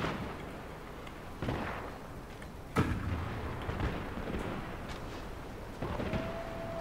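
Musket volleys from troops in a Total War Shogun 2 battle: several booming gunshot bursts over a constant rumbling battlefield din, some sharp and close, others duller and farther off.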